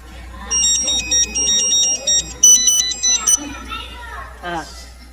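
A mobile phone ringtone plays in a comedy sketch as a loud, repeating electronic melody in short bursts, with voices and children's chatter around it.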